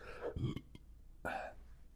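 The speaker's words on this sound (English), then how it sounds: "each show gets a burp, I guess" A single person burps twice in quick succession, short guttural eructations close to the microphone in an otherwise quiet room, with no talking.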